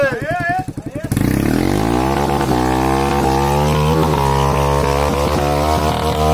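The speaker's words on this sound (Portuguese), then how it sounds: "Motor de twist 250, ninguém aguenta!" A 250cc twist engine in a kart cross buggy revs hard and loud throughout, its rising and falling harmonic whine holding steady at close range after a brief opening burst, with a voice speaking over the start.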